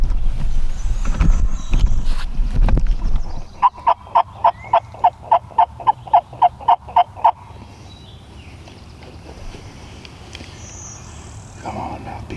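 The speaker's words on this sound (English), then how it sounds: "He's gobbling, but we'll see what happens." A wild turkey in a wet, thick-cornered field answers with a rapid run of about a dozen sharp, evenly spaced calls, following a burst of close rumbling noise and trailing into quiet background.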